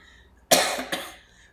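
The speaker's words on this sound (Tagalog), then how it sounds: "I'm sorry kasi inuubo ako." A person coughs twice, close and fairly loud, with a short gap between the coughs, while outdoors at Riyadh Boulevard in Saudi Arabia. No one speaks.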